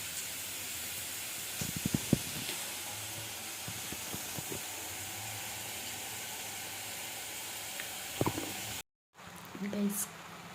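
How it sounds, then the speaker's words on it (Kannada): Sprouted horse gram sizzles in hot oil for a tempering, giving a steady, even hiss with a few faint clinks of utensils and a brief cut near the end. "ಕಾಳು ಒಗ್ಗರಣೆಗೆ ಹಾಕಿದ್ದೀನಿ."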